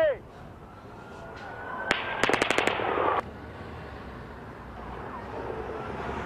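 Barrage of gunfire at a chaotic scene in Las Vegas, a rapid burst of about half a dozen sharp shots after a single crack, distant and echoing under a constant crowd and street din.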